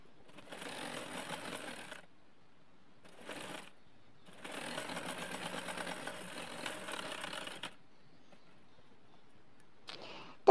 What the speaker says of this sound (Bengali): আমিও কিন্তু দুই পাশে ডাবল করে সেলাইটা দিয়ে নিচ্ছি।